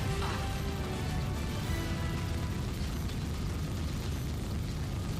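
Ship guns firing in a space combat game against a Hercules ship, a dense continuous rumble of blasts and bursts, loud and sustained with no clear gaps.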